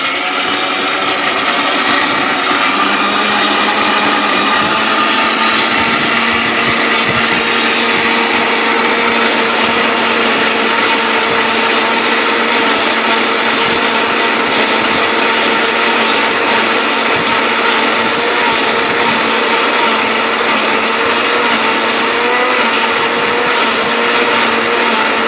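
A blender grinds ginger and garlic into paste, a steady loud motor whine with a dense grinding roar that runs continuously and unbroken from start to finish, with no voices over it.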